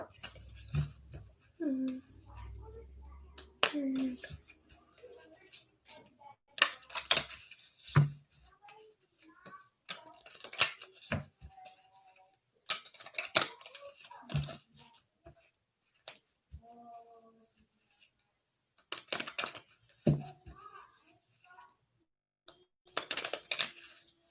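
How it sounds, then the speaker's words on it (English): Tarot cards are shuffled in repeated crisp riffling bursts, close by, with a voice speaking quietly in between. "I'm gonna shuffle these ones"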